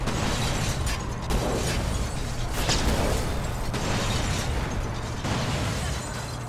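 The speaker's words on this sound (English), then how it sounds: "looks like everything's exploding" Explosions in the Mad Max video game roar in a dense, continuous wall of booming blasts and bursts, loud and close, with no talk over them.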